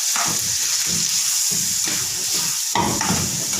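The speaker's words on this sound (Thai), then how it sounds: "ผัดให้เข้ากันครับ" Mushrooms stir-fried in a hot pan with holy basil, a steady close sizzle broken by bursts of stirring and scraping, no voices.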